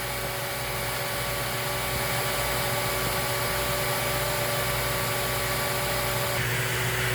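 A Lindhaus Healthcare Pro vacuum cleaner with a lightly filled bag runs steadily and loud, a constant motor whine with a faint shift in tone near the end.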